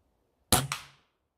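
A BSA Meteor Mark 1 air rifle fires outdoors in the woods, one sharp close crack followed a split second later by the pellet's fainter smack against another pellet, with no talking.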